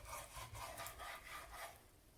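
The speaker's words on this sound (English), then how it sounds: "Cut it into long strips first. And then into bite-sized pieces." A knife cuts chicken breast into strips and bite-sized pieces on a cutting board, making faint, quiet rhythmic slicing and rubbing strokes about every quarter second.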